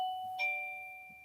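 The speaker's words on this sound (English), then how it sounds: "Chris's doorbell has just rung again." A doorbell chimes in a home, two sustained tones ringing steadily and clearly on their own, fairly faint and slowly fading across the moment.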